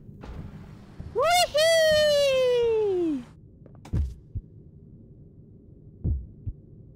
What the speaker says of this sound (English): I just realized you can hear our heartbeat.